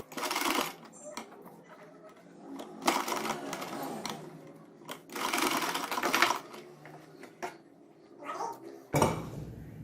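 A sewing machine stitches a poncho seam in several loud, close runs of rapid needle chatter, separated by short pauses and handling noises.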